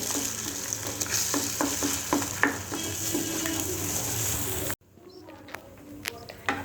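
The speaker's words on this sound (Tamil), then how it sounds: "முட்டை இந்த மாதிரி தூளாக வர மாதிரி ஃப்ரை பண்ணி எடுத்துக்கலாம்." Eggs frying in oil in a pan as they are scrambled into crumbs, with constant sizzle and frequent stirring scrapes, then a sudden drop to quieter clinks near the end.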